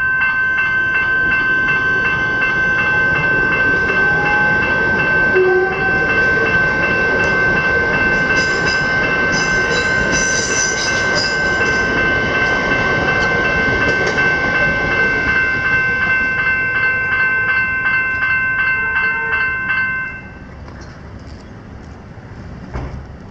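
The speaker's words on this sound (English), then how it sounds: "we've got a train coming from the left." Train rolls loudly through a suburban level crossing in Coburg North, Victoria, a steady clatter of wheels and carriages over the crossing bell's constant ringing, fading as the last car clears near the end.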